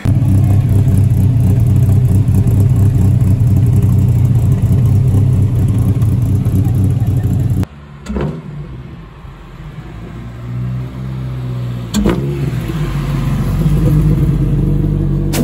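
A modified 2-litre 8-valve VW Caddy bakkie engine roars loudly and steadily at high revs, then drops abruptly to a lower, uneven idle with a brief blip of throttle near the end.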